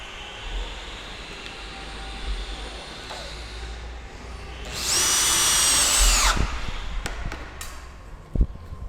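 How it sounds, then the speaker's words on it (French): A power drill drives self-drilling screws with EPDM seals into cladding on an insulated garden studio, giving a loud, close whine of a couple of seconds, followed by light clicks and knocks of handling. "et là, et je visse par-dessus"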